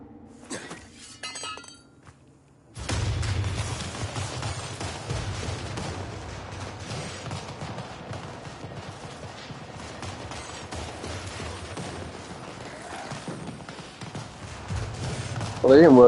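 Decoy firecrackers popping in rapid crackling bursts inside the video game Dying Light 2, a dense clattering fusillade that runs steadily for many seconds after a quiet start, with a louder burst at the very end.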